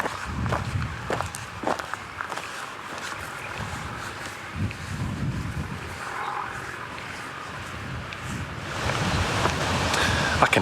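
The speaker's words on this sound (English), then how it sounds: "I can hear the beck." A beck swollen by heavy rain rushes steadily like a waterfall, a continuous broad wash of water that swells louder toward the end, with footsteps crunching along a farmyard path in the foreground.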